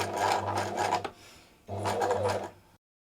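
A treadle sewing machine runs a straight stitch through fabric in two close, steady bursts of whirring clatter separated by a short pause, then stops abruptly.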